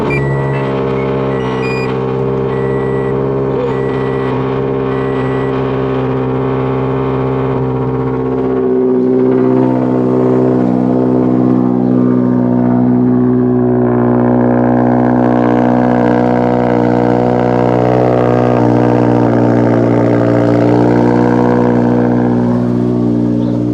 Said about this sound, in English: first cold start after the full tune on E85.